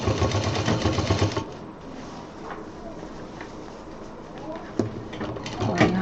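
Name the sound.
sewing machine stitching diaper bag front pocket side wall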